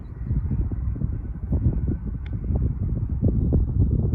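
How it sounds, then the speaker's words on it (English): Steady low wind rumble buffeting the microphone throughout, constant and fairly loud, with no voices. "It's a little windy, a little chilly"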